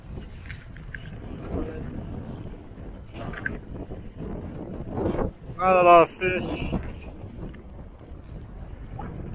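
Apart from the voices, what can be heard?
strong wind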